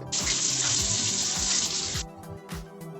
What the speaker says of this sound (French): Donc, je vais faire un lavage de mains.